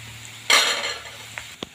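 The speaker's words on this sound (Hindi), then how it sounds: "ये तड़का मैं डाल रही हूँ" Hot tadka tempering is poured into Hyderabadi khatti toor dal and stirred: a sudden loud sizzling hiss that fades quickly, followed by a couple of sharp clinks of a spoon against the pot.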